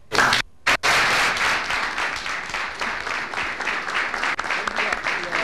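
A crowd at a school inauguration in Tarija breaks into steady, dense applause for the vice president, with a short burst of clapping, a brief gap and then sustained clapping that continues beneath voices.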